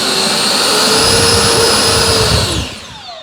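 An FMS F-35 Lightning II 64mm RC electric ducted fan jet spools up into a loud, steady, close whine with a rushing roar, then eases down near the end, with no one talking.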